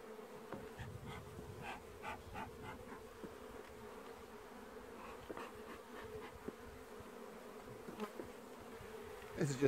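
Honey bees swarm busily in a top bar hive inside a Langstroth-style box, giving a steady close buzzing hum with occasional louder passes near the listener.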